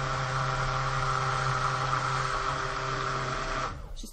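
Stick blender whirring steadily through thick soap batter for an Australian florals and honey soap, a loud continuous motor drone that cuts off abruptly near the end.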